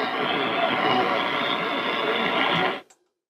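A noisy shortwave radio station comes through an RME DB 22A preselector as a steady wash of loud static and hiss with faint voice underneath, cutting off abruptly near the end.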